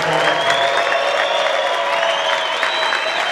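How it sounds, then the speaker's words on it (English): An audience at a film festival world premiere claps in a sustained, dense round of applause, steady and fairly loud throughout with light crowd noise. "Let's have one more round of applause"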